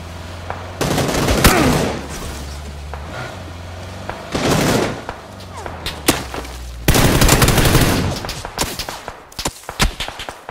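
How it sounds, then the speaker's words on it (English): Rapid bursts of gunfire in the PUBG video game after a player leaps out of a car, loud volleys separated by short pauses, with a few single sharp shots near the end. "Jumping out and shooting."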